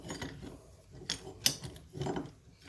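A clamp is tightened on a metal lathe steady rest, making quiet ratcheting, grinding and rubbing mechanical noises with a couple of sharper clicks, close but low in level.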